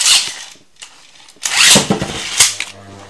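A Beyblade Burst Basalt Horogium top being ripped from its launcher, giving a whirring, ratcheting mechanical burst followed by the spinning top's buzz, close and fairly loud, no talk.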